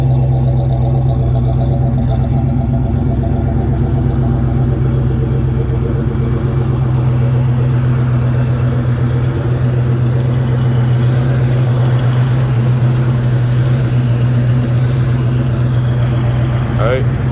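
Steady, close idle of a 1968 Pontiac LeMans with a 455 V8, a deep constant rumble with a slight lope that holds level throughout.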